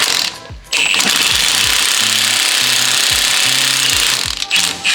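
An impact wrench hammers at a nut on a Cummins megacab truck during a lifted tear-down, a loud close rattling burst that runs almost the whole time, with brief pauses and pitch dips between pulses.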